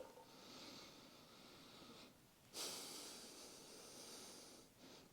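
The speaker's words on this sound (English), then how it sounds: "Let's sniff this one" A person sniffing Paris Hilton Fairy Dust perfume close to the microphone, with soft breathy inhales and one sharper sniff partway through, faint and quiet.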